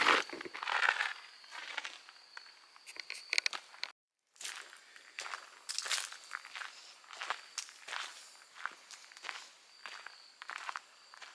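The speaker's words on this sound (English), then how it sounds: "And us crunching around." Footsteps crunch steadily over dry ground in a silent, windless cemetery with no wind, a close, irregular walking rhythm with a brief pause midway and faint crickets behind.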